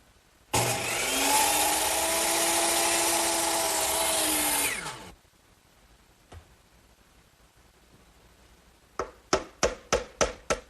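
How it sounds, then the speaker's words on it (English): A saw on a miter box set to 90 degrees cuts wood trim for a hutch in one loud, steady, whining cut of about four seconds, followed by quiet, a single knock, then a quick run of sharp taps. "I'll cut these over here on my miter box, which is already set at a 90-degree angle."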